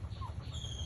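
Tiger breed chickens clucking faintly, a brief low clucking murmur with a soft higher call over a steady background hum, no talking.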